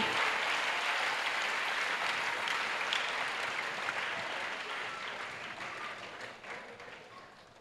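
A congregation claps and cheers at a church healing and salvation service in Port-Bouët, a dense, sustained wash of applause filling the room and easing slightly toward the end.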